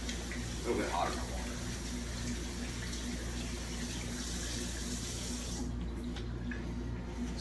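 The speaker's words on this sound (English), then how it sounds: "I'm actually washing my hands" Hands being washed under a running tap with hot water and soapy lather, a steady close splashing stream that cuts off near the end.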